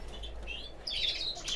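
Contest birds kept in cages at home chirp and tweet, a few high, bright calls rising near the end over a low background hum.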